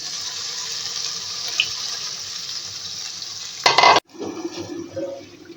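Water splashes into a hot pan of sizzling spices and potatoes while they are stirred for a papaya and egg curry. A steady sizzle builds to a loud, brief rush of water, then settles into softer bubbling.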